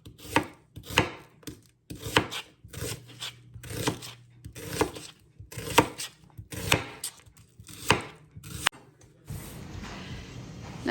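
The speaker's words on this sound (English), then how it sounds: "And I'm cutting up an onion" A knife chopping an onion on a cutting board in a home kitchen: about nine distinct, close, evenly spaced chops with short gaps, ending in a brief rustle.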